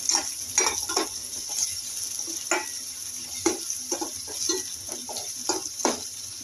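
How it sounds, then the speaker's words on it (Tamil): Onions sautéing in a pan for kurma, with a steady sizzle running throughout and repeated scrapes and clinks of a spoon stirring against the pan at close range. "வெங்காயம் கொஞ்சம் வதங்கினா போதும், ரொம்ப எல்லாம் வதங்கணும் அவசியம் இல்லை"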